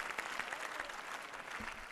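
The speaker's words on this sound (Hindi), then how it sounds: "तालियां हो जाएं इस ब्रह्मचारी के लिए।" An audience at a Vedic gurukulam gathering claps for a student, producing a brief, fairly quiet burst of steady, crowded applause heard from a little distance, with no clear voices.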